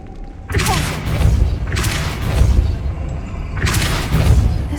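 Repulso spell blasts in Hogwarts Legacy, three heavy booming thumps with deep low rumble, spaced about a second apart and close, loud and layered over ambient game sound.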